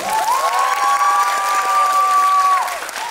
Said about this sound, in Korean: 우리 조인성 배우님께 박수 부탁드립니다.